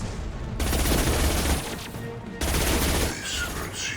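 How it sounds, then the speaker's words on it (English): The concussive shot power firing in Mass Effect 2, heard as heavy bursts of combat blasts and gunfire, two sustained loud stretches split by a brief lull. "Concussive shot ready."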